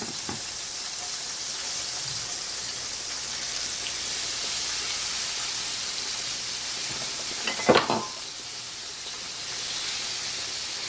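Country fried steak cooks in a pan of hot oil with a soft, even sizzle and hiss, broken once by a brief clatter partway through.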